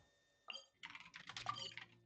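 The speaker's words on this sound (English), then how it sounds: "Intense typing." Rapid typing on a computer keyboard, a short quiet burst of dense key clicks after a single tap, close by and faint.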